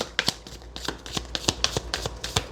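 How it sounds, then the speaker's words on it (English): Tarot cards are shuffled by hand close up, a steady run of crisp riffling slaps and flutters repeating in quick rhythm against a quiet background. "Can you see me shuffling your cards?"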